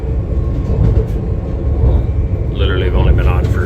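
A Swiss-built passenger train runs from Tbilisi to Batumi in Georgia, giving a steady, smooth rolling rumble throughout while someone talks over it.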